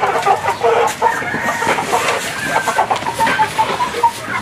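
Chickens, including black Australorps and several other breeds, cluck and chatter continuously at close range, with overlapping calls throughout and no talking.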